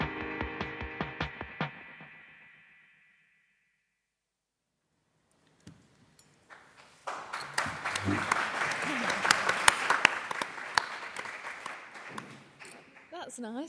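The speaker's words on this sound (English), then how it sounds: "Nice, the foxes got a round of applause." Audience applause at a creative industries conference, a broad burst of clapping swelling after a brief silence and continuing steadily, with some speech before it.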